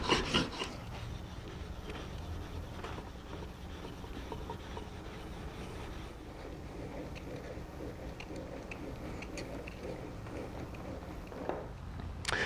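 Back of a Japanese chisel being ground flat, a steady rough scraping and rasping of steel rubbing against an abrasive, continuous and fairly close with small variations in pressure, no talk.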